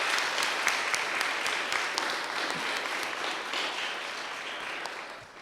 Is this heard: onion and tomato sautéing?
no